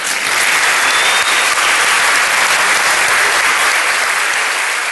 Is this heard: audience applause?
yes